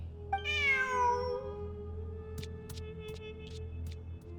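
A single clear, drawn-out cat meow from a video game over a steady low hum, followed by a few faint clicks.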